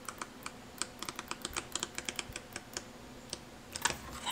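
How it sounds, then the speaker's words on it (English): Quick dry crisp taps and flicks of thick sketchbook pages turning in rapid succession, close and clear in a quiet room. "I should kind of flip through it so you can see it a little bit here"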